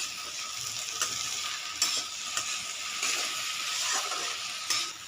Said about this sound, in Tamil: தக்காளி சேர்த்துக்கலாம். சேர்த்து இதோட நல்லா வதக்கிக்கணும்.